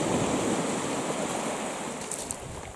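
Waves washing onto a beach, a broad steady surf roar close by with some wind noise on the microphone and no talking.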